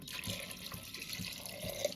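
Water pours from a small vessel into a cooking pot set on a gas stove, a steady trickling splash with a few heavier gushes, close and alone.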